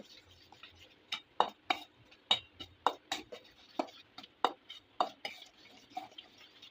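Naan dough with sugar and yeast being mixed in a bowl, giving irregular scraping and tapping strokes, some sharp clinks, at moderate distance with no talking.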